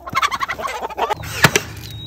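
Guinea fowl call near a chicken coop, giving a rapid series of harsh, rattling cackles close up, followed by a few sharper squawks.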